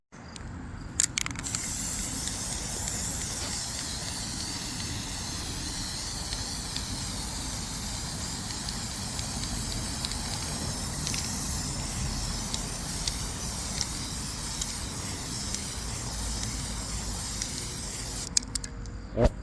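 Continuous close spray-paint hiss while an aerosol coat goes onto a 2014 Cadillac ATS brake rotor, steady for nearly twenty seconds with brief pauses at the start and end.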